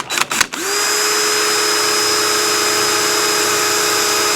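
A power drill driving screws during a glass install on a 1955 Chevy Nomad whirs up after a few brief bursts, then runs steadily at high speed, loud and close, with a constant high-pitched whine and no talking.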